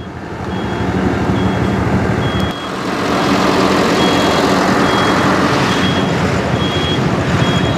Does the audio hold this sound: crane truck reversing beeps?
yes